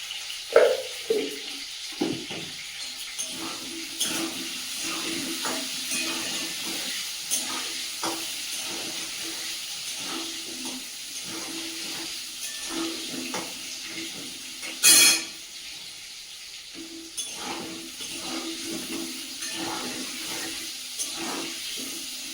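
Potatoes seasoned with a little turmeric and salt fry in a pan for a chicken curry, giving a steady sizzling hiss throughout with occasional soft clinks and a brief louder sizzle burst partway through.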